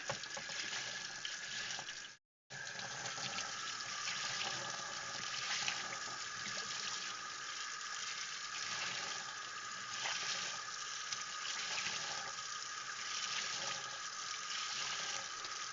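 Aquarium filter sponges, one fine and one coarse, being rinsed and squeezed in water, a steady close splashing and trickling wash that stops briefly once before carrying on.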